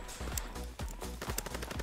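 Loud, rapid bursts of booming blasts and gunfire-like cracks from World War II combat in a PS4 video game, with heavy low rumble throughout and no talking.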